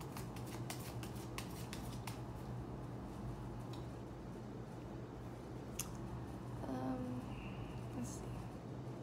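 Tarot cards being shuffled by hand, soft quick riffling and clicking patters, faint and close against steady room hiss.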